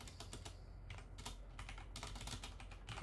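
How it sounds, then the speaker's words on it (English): Rapid keystrokes on a computer keyboard while writing C++ code, a quiet, close run of crisp clicks in an uneven rhythm with no talking. "I can just type"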